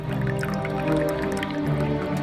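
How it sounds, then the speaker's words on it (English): Water drips into a replica of an ancient water-driven timing mechanism, a float-based alarm clock, with soft, steady drops over a continuous tonal background. "Water is used as a timing mechanism in the machine."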